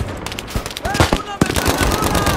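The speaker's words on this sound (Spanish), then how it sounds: "ametralladora!" Machine gun fire in the video game Battlefield V, loud rapid bursts of shots mixed with sharp impacts and whistling sounds, with a voice shouting over the gunfire.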